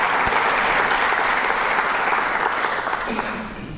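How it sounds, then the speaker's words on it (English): An audience at a leadership discussion claps in loud, dense applause that starts near and full, then slowly tapers off toward the end. "I want that you can applaud"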